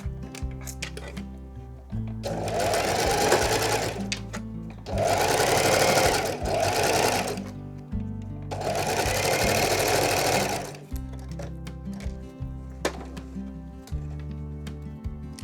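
A sewing machine stitches fabric strips in three fast bursts of steady whirring, separated by pauses filled with quiet handling clicks and rustles of cloth.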